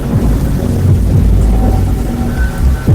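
Heavy rain falling steadily with low rumbling thunder rolling underneath, loud and close throughout, with no voices.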